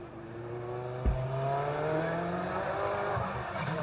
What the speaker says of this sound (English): Just heard the screeching of the tyres.